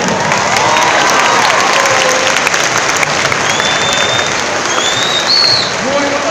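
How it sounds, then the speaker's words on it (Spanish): Loud crowd applause at a comic convention panel, dense clapping mixed with cheers and whistles and scattered shouting voices, sustained throughout. "Un aplauso, padre."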